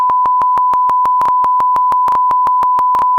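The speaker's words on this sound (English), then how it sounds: "I'm getting the beeps back in this program" A steady series of short, loud electronic censor beeps at a fixed pitch, about six per second, repeating evenly with no other sound.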